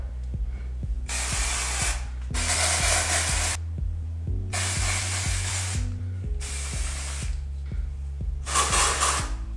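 Volumizing dry shampoo sprayed onto hair in five long hissing bursts, each lasting about a second, separated by short pauses, loud and close, with steady music playing underneath.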